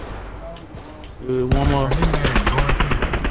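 Rapid bursts of automatic gunfire in the video game Fortnite, loud and rhythmic, rattling steadily through the second half while a player speaks briefly over the start.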